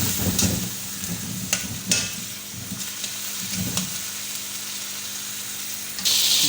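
Garlic ginger paste sizzles steadily in a pan, with occasional stirring scrapes and clinks over a continuous close frying hiss.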